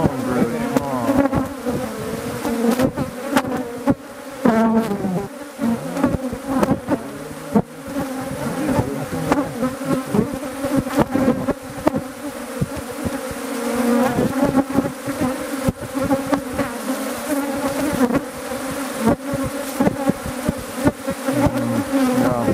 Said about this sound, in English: This hive, beehive, is very nice,